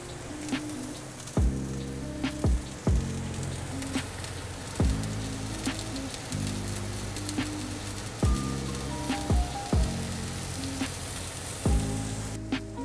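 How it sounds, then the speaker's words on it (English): Onions frying in added oil in a pan while pork is cooked, a steady crackling sizzle running throughout with several louder thumps and clatters of utensils along the way. "We're gonna add some oil to the onions now."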